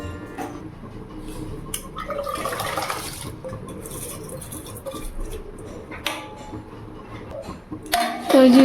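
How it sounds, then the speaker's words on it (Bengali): Rice is rinsed with water in a cooking pot, giving close sloshing, swirling and pouring sounds that surge and fade, with a louder splash near the end. "হাঁড়িতে এই যে চাল ধুয়ে দিয়ে দিলাম, ভাত চাপিয়ে দিলাম"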